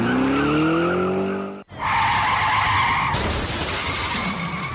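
Car tires screech and skid in a long rising squeal, then a sharp crash with shattering impact and scattered debris noise, loud and close with no talking.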